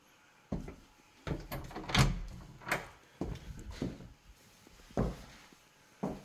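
Knocks and bumps of a pantry door in a house kitchen opening and closing, several short thuds and clatters spread across a few seconds at close range, with no talking.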